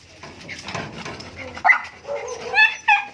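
A dog gives a few short yips and whimpering barks near the end, over indistinct voices and shuffling nearby.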